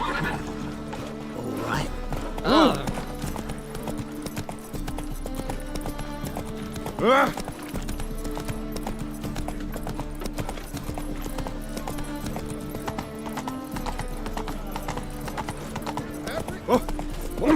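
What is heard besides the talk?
Roach the horse neighing and galloping in The Witcher 3 video game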